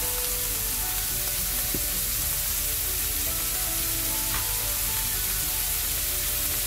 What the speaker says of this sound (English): So we're going to fry this nicely till our meat is done and maybe slightly brown.